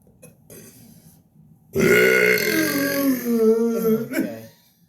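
A long, loud, drawn-out extreme burp of about two and a half seconds follows a quieter stretch with a few faint short sounds, the belch deep and croaking with a rising strain near its end.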